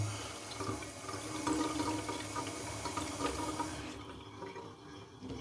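Water runs from a tap in an abandoned house, a steady, soft rushing with faint splashes that drops away abruptly near the end.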